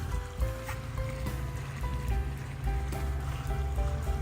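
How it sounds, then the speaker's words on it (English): Water flows through a city canal in Oldenburg, Germany: a steady, soft rushing and lapping with a low rumble underneath, faint and continuous with no voices. "Sit and listen to the sound of the water."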